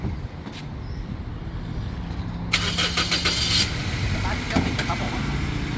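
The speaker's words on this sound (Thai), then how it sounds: "ฟังเสียงเครื่องยนต์กันนะครับ" An automatic petrol Toyota Corolla Altis engine idles steadily with a low rumble, a burst of rattling mechanical noise partway through, and someone talking over it.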